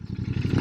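A Royal Enfield Bear 650 motorcycle on its stock exhaust pipe runs with a rapid, even low pulsing thrum, loud and close, over a very short burst.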